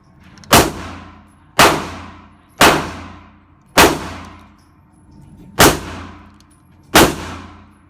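Six sharp pistol shots from an S&W Bodyguard .380 firing cheap PPU brass-cased ammo, each a loud crack with a ringing decay, spaced about a second apart at close range with no talking.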